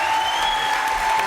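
A studio audience at a French TV variety show applauds steadily, a dense, even wash of clapping filling the whole short stretch.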